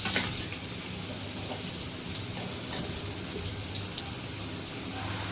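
Chopped onion sautéing in oil in a pan, a steady close sizzle with crackling, spattering texture running throughout.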